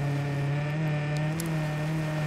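A Porsche in the racing game Gravel holds a steady, droning engine note at sustained revs, loud and unbroken with a faint whir on top, no voices.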